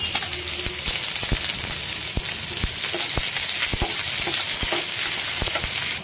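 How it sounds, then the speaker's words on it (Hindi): Chopped onion sizzling in hot oil in a pan: a constant close crackle and hiss with scattered stirring ticks, no talking. "तेल गर्म हो गया है तो ये दोनों चीज़ें हम इसमें डाल के थोड़ा फ्राई करेंगे"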